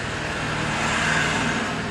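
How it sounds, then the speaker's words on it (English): A noisy truck passes outside, a steady broadband roadway rumble with a low engine drone that swells slightly midway and stays continuous, fairly close and loud. "Oh, noisy truck."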